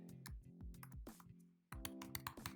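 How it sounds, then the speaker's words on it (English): A computer keyboard being typed on at close range, a quick run of sharp clicks and key taps with a brief pause midway, fairly quiet and without speech. "So I'm going to type in website, type in the URL to the website"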